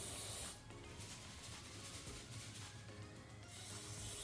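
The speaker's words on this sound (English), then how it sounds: "you're simply going to spray it directly in onto the sensor." A steady aerosol cleaner spray hisses close by onto the MAP sensor of a 2025 Kia K4 2.0L for several seconds, with a brief pause at the start and a slight rasp.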